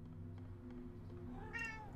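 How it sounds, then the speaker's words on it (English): A single short meow from a cat, faint and fairly close, rises briefly over a low steady hum near the end. "That's my cat."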